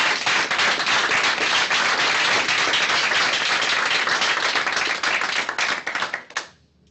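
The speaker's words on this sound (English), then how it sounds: "so I think he deserves some applause." Sustained audience applause at a scientific workshop on materials in quantum cavities, a steady dense wash of clapping from a full room that holds at a constant level for several seconds, then tapers off quickly at the end.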